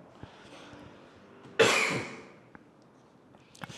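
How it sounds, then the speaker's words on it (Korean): A single sharp, loud cough bursts out near the mic during a lecture in a classroom, trailing off over a quiet room with faint background noise. "오랜만에 강의했더니 기침이 자꾸 나네요"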